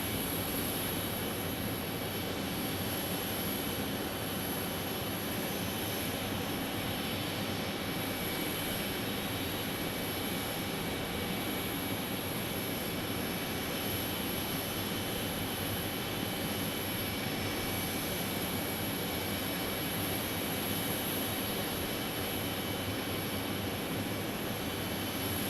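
Jet engine noise from aircraft at Phoenix Sky Harbor airport, where a Boeing 777 is among the planes, forms a steady broad roar with a high whine, constant and fairly strong throughout, with no voices.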